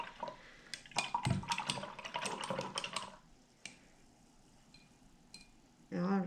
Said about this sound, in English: I'm gonna rinse my brush in the water.